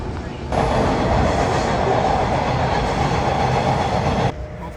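A subway train running between stations in Scarborough, Canada, rumbles loudly and steadily with a rushing, rattling roar that starts abruptly and cuts off just as suddenly, heard from inside the car.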